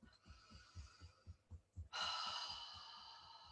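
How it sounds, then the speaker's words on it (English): Fingers tap on the chest just below the collarbones in a quick steady rhythm of soft, close, dull thumps, followed by a loud breathy exhale. "So underneath the collarbones, about an inch down, we're going to begin to tap"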